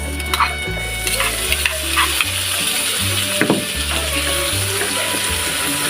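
Tomatoes go into a hot frying pan after browned ground pork for a pechay sauté, hissing and sizzling steadily at close range with a low hum behind it.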